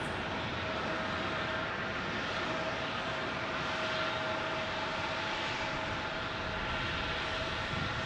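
An Airbus A350 airliner at Phoenix Sky Harbor airport produces a strong, continuous jet roar with a faint steady whine running through it, and no one speaks.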